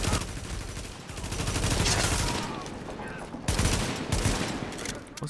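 Gunfire in the video game The Division, dense rapid bursts of automatic shots that roll on almost without a break, loud and close, with a person talking over them.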